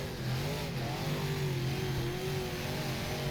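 An Imod race car engine in the rFactor racing sim, at Montpelier Speedway, drones loud and steady as it revs under load. The sustained tone drifts slightly in pitch, with the roar of other cars nearby.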